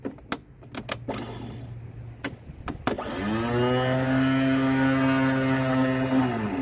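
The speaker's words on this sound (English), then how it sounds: "that means the starter's spinning, but our solenoid isn't engaged and pulling it out to meet the flywheel on the engine" A VW Beetle starter motor, on a car parked since 1997, spins freely with its terminals bridged. Clicks and clunks come first, then a loud steady whirring whine that holds for several seconds.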